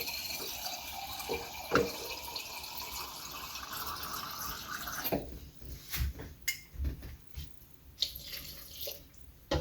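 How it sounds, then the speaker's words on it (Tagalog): Water runs and trickles into pancake batter in a home kitchen, a steady pour that gives way to irregular drips and splashes, close and fairly quiet, with faint clinks of dishes. "Mag-a-add tayo ng tubig."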